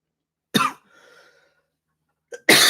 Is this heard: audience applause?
no